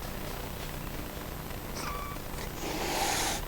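A cat in played-back study footage, a faint purr-like murmur that ends in a brief brighter meow near the close, alone with no voices.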